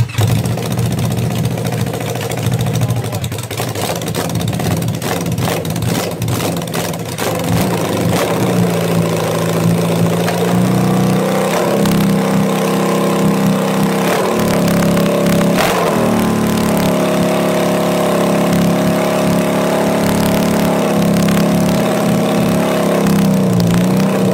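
Honda CB550 motorcycle engine, choke on and jump-started, cranking then catching and revving loudly with uneven rising and falling pulls, close up and alone throughout.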